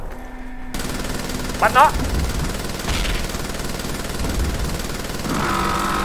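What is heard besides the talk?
gunfire in a Siren Head video game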